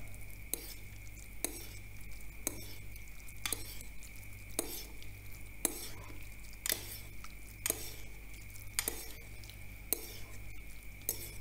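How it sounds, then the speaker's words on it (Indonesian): Instant noodles mixed with seasoning in a bowl, stirred with a utensil in steady repeated scraping strokes about once a second, quiet and close, over a constant low hum. "Kemudian kita aduk biar bumbunya merata."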